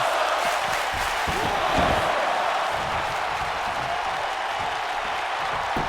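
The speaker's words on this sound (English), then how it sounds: "You can hear the crowd." Wrestling event crowd cheering and roaring as a wrestler flies over the top rope, a dense sustained wash of noise with a brief swell near the two-second mark.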